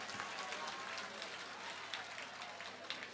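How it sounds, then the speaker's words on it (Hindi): A crowd at a temple consecration festival in Gurugram claps in a dense, steady patter that sounds somewhat distant and fairly soft. "जोरदार ताली बजा करके हमारे आदित्य जी को धन्यवाद दो।"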